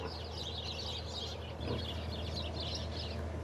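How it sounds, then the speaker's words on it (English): Birds call and chirp outdoors near a home, a steady chorus of high twittering that stays fairly loud and continuous throughout, with a low background rumble underneath. "Sorry for the birds."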